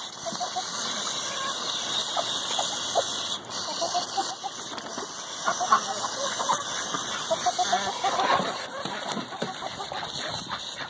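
Chickens cluck and scratch around a person taking a bath, with water splashing and a steady hiss of running water, the birds close and busy throughout.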